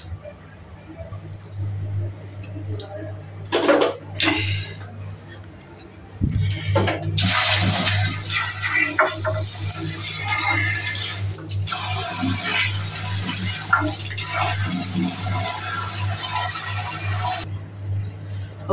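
Water rushing and splashing after a single-piece ball cock valve is refitted, a few knocks and handling sounds first, then a loud, steady flow lasting about ten seconds before it cuts off.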